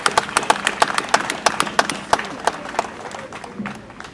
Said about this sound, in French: Applaudissons pour lui.